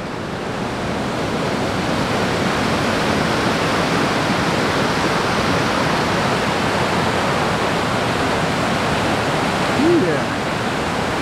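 Swollen river rushing through Big Thompson Canyon along Highway 43 near Estes Park, Colorado, during flash flooding: a loud, steady broadband roar of churning water, constant throughout with no break.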